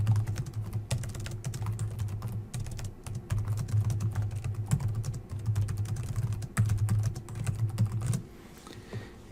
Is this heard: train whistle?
no